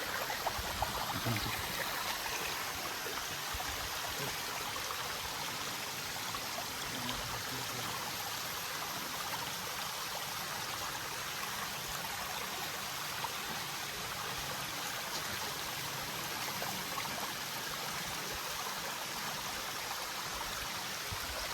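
A waterfall stream on a trek from Alikadam toward Kristong pours continuously, a dense, even rushing of water with no voices over it.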